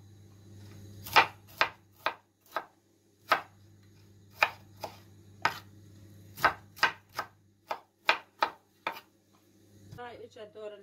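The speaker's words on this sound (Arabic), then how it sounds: "هلا نفرم بروكلي" A knife chops broccoli on a cutting board for vegetable lentil soup, about fifteen sharp, evenly spaced knocks close up over a low steady hum, with a brief voice at the end.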